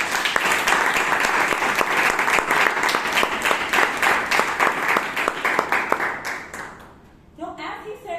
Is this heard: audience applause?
yes